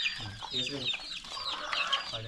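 Native hens in a mixed poultry house with quail, ducks and pigeons cluck and chatter continuously, a busy close chorus of overlapping calls with no talk.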